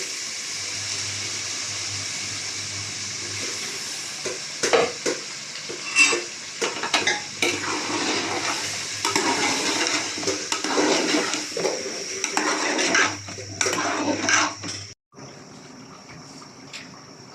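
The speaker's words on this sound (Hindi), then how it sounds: "आलूओं को थोड़ी देर फ्राई करने के बाद हम उसमें डालेंगे टमाटर, अदरक, लहसुन और हरी मिर्च का पेस्ट।" Potatoes with tomato, ginger, garlic and green chilli paste fry in a pan for chicken aloo curry, a close, hissing sizzle broken by scraping stirs and clinks of utensils, ending in brief quiet.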